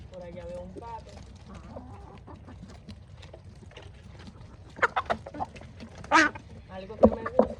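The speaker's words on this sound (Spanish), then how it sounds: "Ahí están algunas gallinas, por allá veo un pato." Chickens, roosters and ducks feed at a new feeder, with scattered clucks and squawks, a few louder close calls near the end, and a person speaking quietly over the flock.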